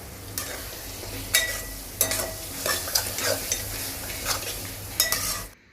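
Garam masala, biryani masala and kala masala stirred into matki pulav in a pan, with repeated scraping spoon strokes against metal over a low sizzle, close and fairly loud, in a rhythmic series of sweeps.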